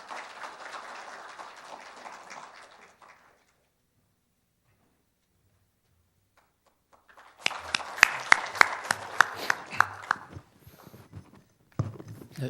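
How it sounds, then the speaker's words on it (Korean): Audience applause at the third Software Industry Protection Awards ceremony, a short burst of clapping, a silent gap, then a second, louder round of many hands clapping in a hall. "뜨거운 박수를 부탁드리겠습니다."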